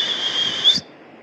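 A single high, steady whistle held for under a second, close and fairly loud, then cut off abruptly into quiet.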